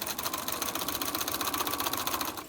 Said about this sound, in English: Now I'm going to back stitch to that corner, to that 1/4 inch, and stop there